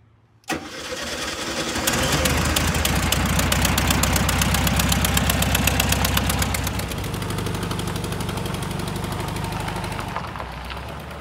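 A Volkswagen Thing just out of storage starts with a sharp crank, then its engine runs loud and close at a steady, slightly rough idle for about ten seconds.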